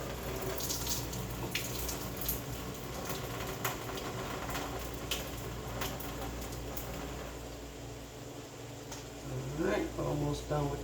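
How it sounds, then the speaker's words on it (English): Water pours steadily off pasta as a cooking pot is tilted over a sink, a continuous trickling splash that swells near the end, with some voice underneath. "I'm just tilting the pot to the side, tilting the pot, letting the water slowly come off my pasta"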